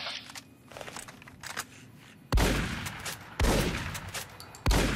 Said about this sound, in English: I'm terrified to know what you're shooting at.